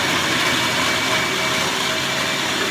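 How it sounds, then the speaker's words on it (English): A food processor blitzes cauliflower into rice for a pea cauliflower dish, giving a loud, steady whirring motor roar with a grinding hiss that runs unbroken for a couple of seconds, with no talk over it. "I prefer definitely my food processor"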